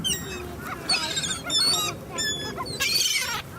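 Honking calls of geese near a pond, several bursts across the clip over a busy outdoor background, fairly close and moderately loud.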